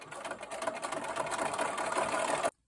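A sewing machine stitches quilt pieces for a feather star block, a rapid, even mechanical whirr running steadily for about two and a half seconds, up close, before stopping abruptly.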